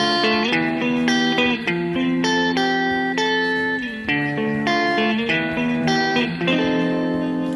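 Clean electric guitar blended with a DI channel, drenched in reverb with a glassy tone and panned, one part about 60% left and the DI 30% right. Sustained chords ring out steadily, alone and close.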